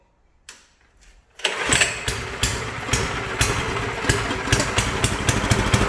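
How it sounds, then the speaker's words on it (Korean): A walk-behind cultivator's small engine gets a couple of short pull-cord tugs, then catches and settles into a loud, steady, slightly uneven putter running close by. "일단 시동을 한번 켜볼게요."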